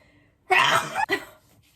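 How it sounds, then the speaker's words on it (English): A single sharp sneeze bursts out close up, a brief intake then an explosive release with a short tail, alone in a quiet room. "I'm going to sneeze."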